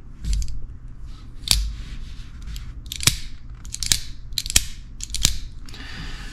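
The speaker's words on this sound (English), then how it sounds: "if you're using the shark lock to open and close it, all you got to do is depress it, and the knife will start to open on its own" Folding knife with a shark lock clicks open and shut repeatedly, six or seven sharp, close mechanical snaps spaced roughly a second apart over a faint background hiss.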